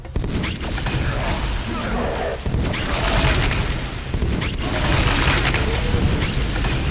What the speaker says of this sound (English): flak cannon from a real tournament, like those guys have.